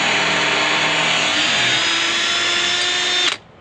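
A loud power drill whirs steadily as it bores through wood, then abruptly stops.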